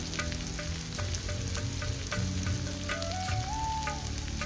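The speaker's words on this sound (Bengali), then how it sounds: "এরপর দিব আদা বাটা রসুন বাটা দিয়ে একটু কাঁচা গন্ধ যাওয়া পর্যন্ত ভেজে নিব" Ginger and garlic paste fries in hot oil for a shrimp malai curry, giving a steady, close sizzle with occasional stirring clicks and no talking.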